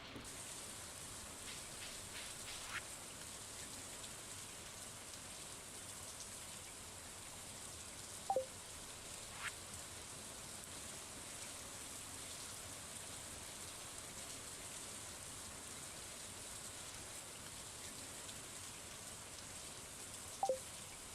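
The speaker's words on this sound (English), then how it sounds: "I love that rain sound." Rain falls steadily in the Stardew Valley video game, a soft, even hiss that runs the whole time, broken only by a couple of faint, brief clicks.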